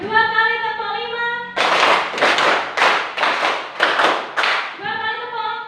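Two quick sets of five claps each in a classroom clapping routine, loud and close, with a steady rhythmic pulse, framed by a teacher speaking before and after.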